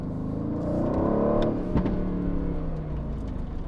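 An Aston Martin pulls hard in second gear through a turn on a Manhattan street, its engine note rising as it accelerates, then easing off with a brief thump midway, close and fairly loud.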